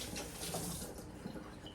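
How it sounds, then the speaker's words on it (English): Running tap water splashes over fingertips at a kitchen sink, a steady broadband rush for under two seconds with no talking. "I'm gonna rinse that off my fingertips"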